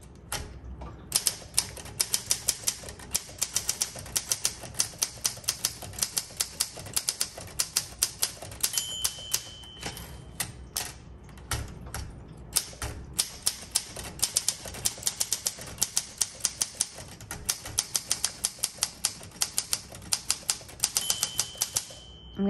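Rapid keystrokes on a 1958 Olympia SM3 manual typewriter clatter steadily up close, with a few carriage returns and a bright bell ringing twice; no voices.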